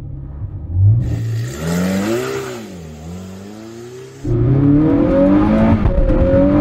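Zenvo TSR-S supercar launching hard from standstill, its engine revving up and wavering as power is fed in, then a gear change and a louder, sustained roar as it pulls away, close and dominant with no talking.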